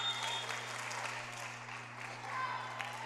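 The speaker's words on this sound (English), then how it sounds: "They got the big clap and then 3 little claps." Crowd applause in a gym at a high school volleyball match right after an ace serve, a steady broad clatter of clapping hands lasting a few seconds over a constant low electrical hum.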